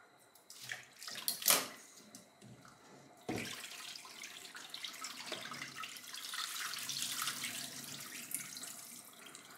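A kitchen tap runs steadily while beef tripe is rinsed beneath it, starting after a few brief knocks and splashes and then holding a close, continuous rushing flow with no speech.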